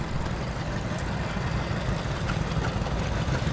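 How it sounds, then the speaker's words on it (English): Vintage tractors rumble past in a fall fair parade in Port Alberni, a steady low engine drone at moderate distance with a few faint background sounds and no talking. "we've got the Vintage Tractor Club coming by with an awful lot of tractors"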